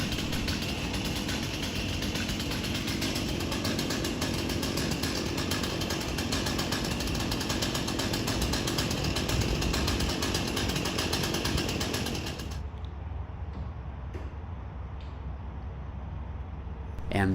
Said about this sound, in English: that is the giant chainsaw that's going to do all the work for us here today